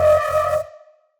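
A synthesized sci-fi foghorn bass for drum and bass, one deep buzzy sustained note that cuts off and leaves a smooth reverb tail fading out over about half a second.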